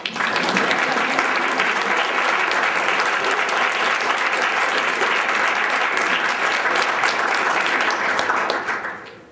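Audience applause at a fraternity chapter chartering ceremony, a dense unbroken round of clapping lasting about nine seconds before tapering off at the end.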